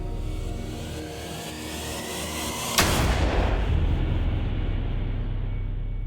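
A single loud gunshot cracks sharply about midway, followed by a lingering rumbling decay over a low steady background hum.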